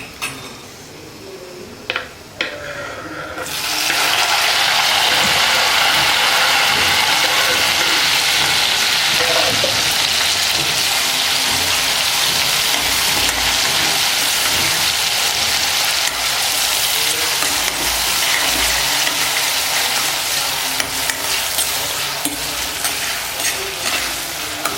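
Onions added to ginger-garlic paste burst into a loud, sustained sizzle after a few seconds of quiet clinks and knocks, with steady stirring scrapes underneath the frying throughout.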